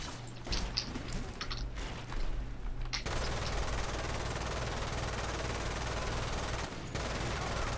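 Gunfire in the video game Lost Planet 2, a steady dense stream of machine-gun fire running nearly the whole time with brief gaps, loud and close, no talking.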